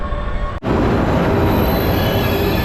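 A train rolls into a station in Tuscany, Italy, with a loud, steady rumble of wheels and squealing rails. The noise drops out briefly near the start, then resumes and runs on unbroken close by.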